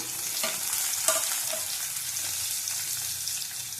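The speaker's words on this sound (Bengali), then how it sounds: "একটা টমেটো দিয়ে দিলাম গোটা" Onion and a whole tomato frying in a pan, a steady close sizzle and crackle with faint stirring scrapes throughout and no talk.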